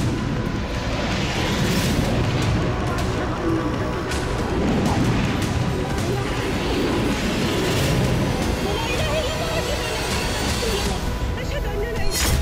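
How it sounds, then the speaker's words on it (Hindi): Repeated booming blasts and crackling explosions rumble over a dense, continuous roar of fire at a rocket and missile warehouse, heavy and distant, with muffled voices mixed in. "रॉकेट और मिसाइल गोदाम में बम विस्फोट होने के बाद आग लग गई।"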